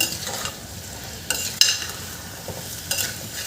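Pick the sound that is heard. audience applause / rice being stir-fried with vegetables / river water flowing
rice being stir-fried with vegetables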